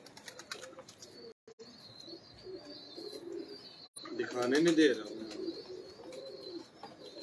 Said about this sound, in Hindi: क्या बात, यूनिक कबूतर है